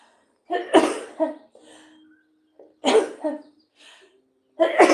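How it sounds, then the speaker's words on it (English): A person sneezes during a live thrift shop broadcast about folklore vintage dolls, with a quick build-up followed by three sharp, close explosive bursts spaced over a few seconds in an otherwise quiet room. "oh, I gotta sneeze"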